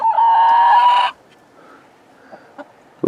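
A backyard chicken coop flock gives a loud, sustained honking squawk lasting about a second, then quieter scattered clucks and rustling follow close by.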